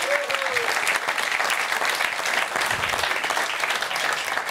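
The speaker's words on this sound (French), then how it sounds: "On peut les applaudir." An audience at a televised music contest applauds with continuous, dense clapping that fills the room at a steady level, with a brief voice briefly audible at the start.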